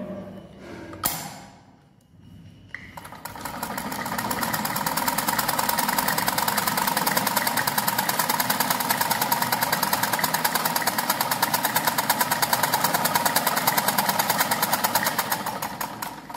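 A sewing machine runs steadily, stitching short stitches with a fast, even mechanical clatter that starts after a brief quiet pause and holds near and loud, with no talking.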